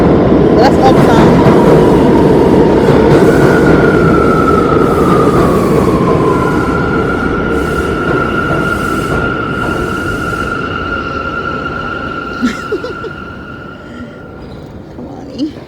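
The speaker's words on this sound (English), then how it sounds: "Train coming. That's uptown." A New York subway train arriving at an uptown station platform near 175th Street, with a loud sustained rumble and a long metallic wheel squeal that fades gradually as it slows.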